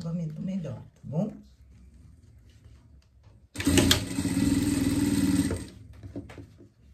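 A sewing machine stitches with white thread in one loud, steady mechanical run lasting about two seconds, after someone speaks nearby.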